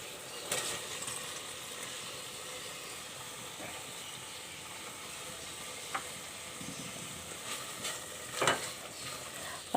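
Boiled dal mash frying on high heat in a pan, giving a steady close hiss and sizzle, with occasional stirring scrapes and bubbling pops, and no voices.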